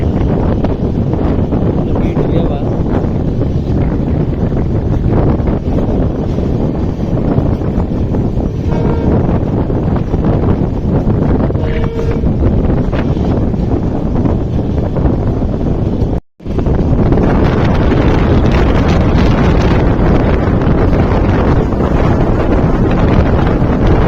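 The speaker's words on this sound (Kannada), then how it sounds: "ಕೋಸ್ಟಲ್ ಲೈನಿಗೆ ಬರೋಣ ಪೂರ ಬಿಸಿ ಗಾಳಿ ಬರಾಕತ್ತ ನೋಡ್ರಿ" Hot coastal wind batters the microphone aboard the Karwar Express running from Yeshwantpur toward Mangaluru Junction, a steady, loud roar that continues throughout, broken only by a brief dropout midway.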